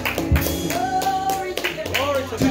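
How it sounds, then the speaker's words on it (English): A church congregation claps hands during a worship service, quick claps mixed with voices, fairly loud and close. "Give the Lord a hand clap"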